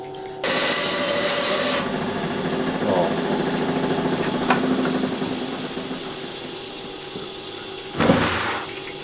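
A rock saw blade cuts through a rough Dryhead agate held in a vise, a steady grinding whine with a louder motor burst at the start and again near the end.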